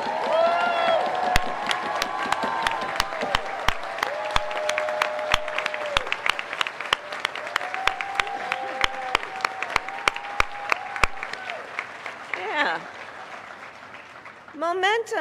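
At a Democratic summer meeting, a crowd applauds standing Kansans with steady clapping and some cheering, while voices and sharp close claps sound over the dense applause.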